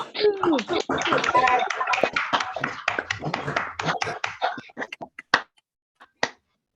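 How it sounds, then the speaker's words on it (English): Online meeting participants clap and snap fingers over their microphones for a round of applause, scattered overlapping claps and snaps under cheerful voices, thinning out toward the end. "Would everyone like to please come off of mute and give her a round of applause?"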